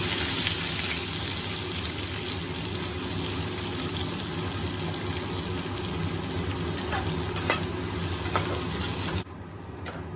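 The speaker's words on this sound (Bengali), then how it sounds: "কড়াইতে সাদা তেল দিয়েছি, তারপরে পেঁয়াজটা আমি হালকা করে ভেজে নেব, বেরেস্তার মতো করে" Onions fry in white oil in a wok, a dense, loud, continuous sizzle with occasional stirring sounds that drops abruptly in level near the end.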